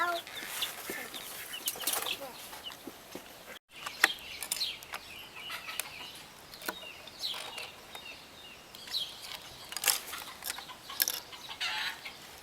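Baby chickens cluck and peep in scattered short bursts, fairly close and moderately loud, with a small snake nearby and no talk over them.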